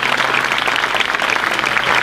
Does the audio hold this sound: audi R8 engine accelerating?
no